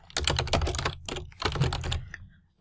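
Rapid typing on a computer keyboard, two quick bursts of clustered key clicks with a short pause between, close and crisp with no talking.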